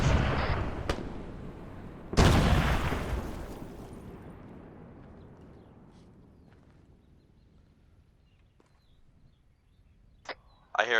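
Gunfire cracks in Arma 3 during a multiplayer embassy attack, a few scattered sharp shots, one big report echoing and fading slowly into near silence, then a couple of distant pops near the end.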